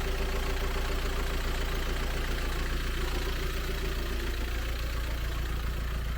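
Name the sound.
Volkswagen T5 1.9 TDI PD diesel engine idling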